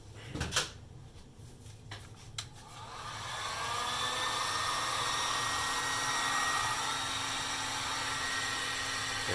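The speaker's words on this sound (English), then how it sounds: "I heat that one up and shrink it." A few sharp clicks and handling knocks, then a heat gun starts up and blows steadily to shrink heat-shrink tubing on the wiring of a 1929 Atwater Kent 55C radio chassis, a loud, even whoosh held to the end.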